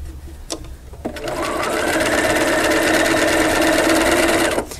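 A sewing machine stitches a quilt seam on Double Wedding Ring pieces, guided along blue tape. A short click leads into a steady, close, even whirring run of several seconds that stops abruptly.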